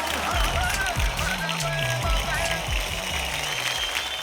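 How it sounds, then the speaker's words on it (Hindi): Studio audience applauding loudly on a Hindi celebrity TV show, with steady clapping sustained throughout beneath a music bed with a pulsing low beat. "शिवाय के लिए जोरदार तालियां हो जाए।"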